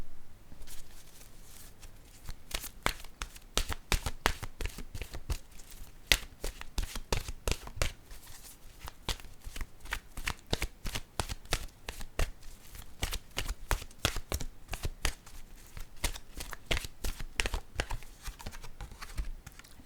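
Oracle cards are shuffled in the hands, a long run of quick, close, crisp flicks and riffles in an uneven rhythm that barely pauses, heard alone.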